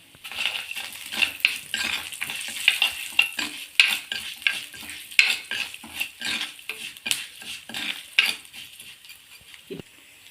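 Black urad dal roasts in hot oil in a pan, with a continuous sizzle under rapid, rhythmic scraping strokes of a ladle, close and fairly loud.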